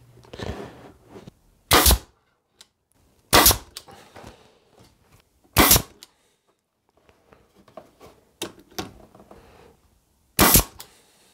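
A pin nailer fires into glued wooden bedside unit panels, five sharp pneumatic snaps spaced a couple of seconds apart, close and loud, with faint handling knocks and shuffles between shots.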